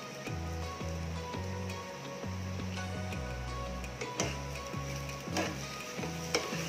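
A spoon scrapes and stirs seafood curry with shrimp in a sizzling pan, with steady rhythmic scraping strokes over a constant close frying hiss and no voices.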